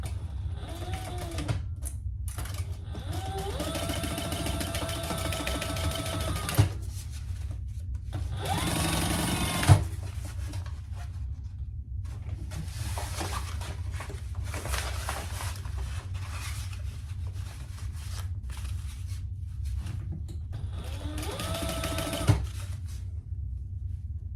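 Sewing machine stitching the lining seam of a fabric storage caddy, running in long steady bursts with short pauses between, close and clear with no talk.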